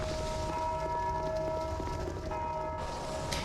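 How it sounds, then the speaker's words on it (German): Bell ringing in the video game Dark Souls 2, sustained steady tones holding over a constant ambient game background, moderately loud throughout with a brief dip near the end, no talking. "Ach, jetzt bimmelt so drei die Glocke."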